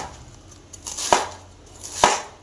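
A knife chops cabbage on a cutting board, finely cutting it in two sharp, separate thuds a second apart, close and clear over faint background noise.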